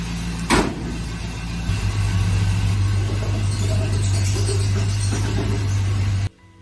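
An AMC Matador that sat outside since 1982, now fitted with a new starter, runs for a drive. A sharp thump comes first, then a loud, steady engine drone continues close by until it stops abruptly.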